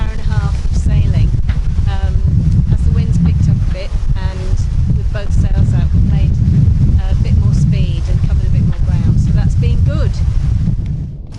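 Steady wind noise and rushing water aboard a sailboat running with both sails out on a passage toward Ibiza, a constant broadband roar under continuous talk throughout.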